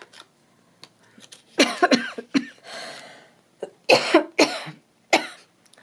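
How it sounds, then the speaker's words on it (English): A person coughs in a series of harsh, rasping bursts up close, with brief throat-clearing sounds and breaths between fits. "As soon as I swallowed it, I start coughing."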